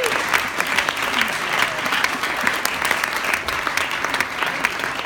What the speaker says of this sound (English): Let's give Christian and Davis another round of applause